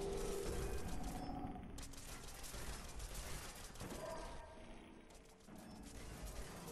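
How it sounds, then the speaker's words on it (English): Gun fired repeatedly in Fallout 4's Automatron DLC, a rapid stream of loud shots over a dense, busy game soundscape with a few brief pauses, and no voices. "Man, this gun has a lot of ammo."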